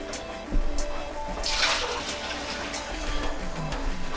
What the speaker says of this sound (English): wash it well under the faucet.